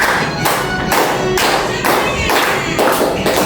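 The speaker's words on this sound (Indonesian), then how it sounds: "Tepuk tangan." A classroom group claps hands together during an ice-breaking clapping game, with bursts of claps in a steady rhythm repeating about every half second, fairly loud and close.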